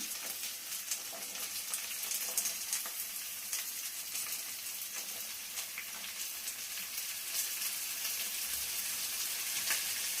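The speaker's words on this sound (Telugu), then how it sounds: "తర్వాత ఈ పచ్చిపరంకాయ అనేది ముక్కలు వేసేద్దాము." Pieces of raw green mango frying in a pan give a steady, soft sizzle with fine crackles and occasional stirring, close but fairly quiet and with no talking.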